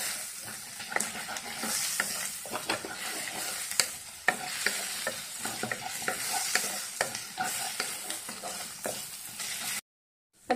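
Onions frying for fish molee, stirred continuously: a dense, close sizzle with frequent scraping strokes of a spoon through the pan, steady for about ten seconds before a brief silent gap, no voices.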